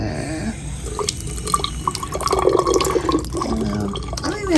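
Tap water runs and drips into a sink in a hospital room, a steady close splashing stream that turns fuller midway, with a few faint voices in the background.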